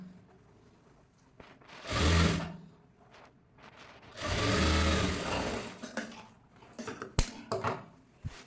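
A sewing machine stitches blouse fabric in two sustained runs of mechanical whirring, each a couple of seconds long, with quieter handling noise between and some small clicks toward the end.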